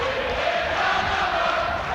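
Spectators at a school under-18 rugby cup semi-final cheer and shout in a steady, broad crowd roar that carries on without pause.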